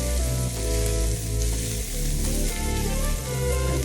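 Cheesesteak meat browns in a hot pan, a loud, continuous close-up sizzle with faint crackling and no talk.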